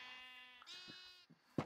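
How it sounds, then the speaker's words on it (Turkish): A purple sheep in the Minecraft video game gives a single drawn-out wavering bleat, fairly faint, followed by a couple of soft clicks and a short thud. "Mor koyun çıktı."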